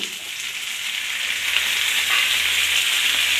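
Tomatoes frying in a pan with oil for chicken kurma, a continuous close hiss of sizzling that slowly builds in loudness, with no talking.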